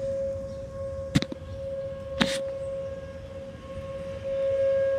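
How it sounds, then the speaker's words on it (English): A civil defense siren sounds a tornado warning near Rockford, holding a steady, sustained wail at a distance, broken by a couple of sharp nearby clicks. "Sirens are going off."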